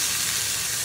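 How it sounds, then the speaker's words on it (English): Chicken sizzles in sizzling-hot oil in a pan. The frying gives a dense, steady crackling hiss, loud and close, with no voices. "You have to make sure that the pan and the oil is sizzling hot because you want this texture to the chicken."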